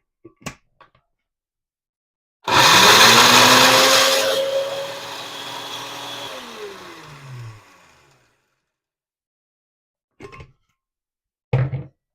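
A blender blending organic kitchen scraps, including pomegranate shells and seeds, whirs loudly for a few seconds, its motor pitch shifting as it churns and then winds down, followed by a few clicks and knocks.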